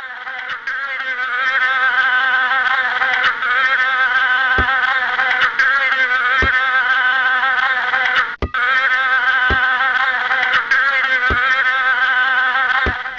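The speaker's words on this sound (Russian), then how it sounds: "Кого напоминала вам эта муха?" A fly buzzes continuously and loudly up close, a steady droning whine that keeps on with only a few brief clicks and one short dip partway through.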